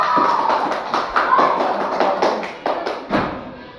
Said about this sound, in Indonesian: Oke, tepuk tangan untuk Marco dan kelompok 2.